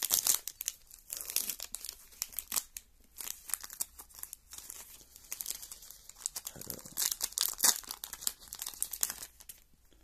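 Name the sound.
opening a Pokémon promo card pack wrapper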